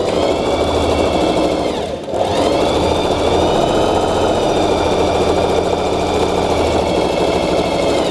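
A Singer Heavy Duty 4432 sewing machine runs steadily through a plain straight stitch, a close, loud, continuous whirring hum with a brief dip around two seconds before resuming at the same pace.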